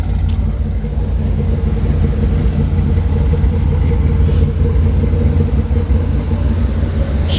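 A Chevrolet Corvette's engine runs loud and rough close at hand, a thick, constant rumble with slight throttle fluctuations and no one speaking over it.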